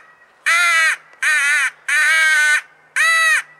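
Faulk's crow call, a wooden mouth-blown caller, gives four loud, raspy caws in a row, each about half a second long with short gaps between, played alone with no talk.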